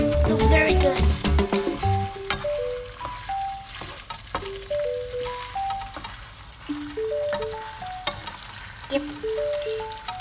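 Green peas and pork stir-fried in a pan give off a steady sizzle with the scraping and clatter of a spatula, while a voice talks over the cooking and a light musical melody plays underneath.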